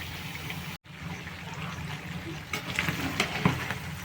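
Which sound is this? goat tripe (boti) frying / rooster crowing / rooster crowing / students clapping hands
goat tripe (boti) frying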